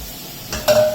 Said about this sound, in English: Hear that beautiful sizzle.